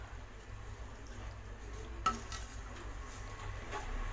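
A spoon stirs salted vermicelli in a cooking pot with soft scraping and one sharp clack against the side, over a faint sizzle.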